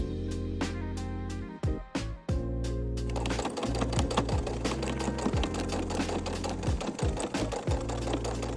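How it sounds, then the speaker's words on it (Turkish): A sewing machine stitching a denim jacket sleeve, with a few short bursts at first and then a steady, loud, continuous mechanical whir and needle clatter. No talk. "Kolun dışından bu şekilde iki kere dikiş geçiyoruz."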